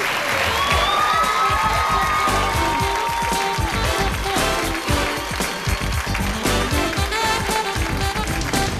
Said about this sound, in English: A big applause for volunteering.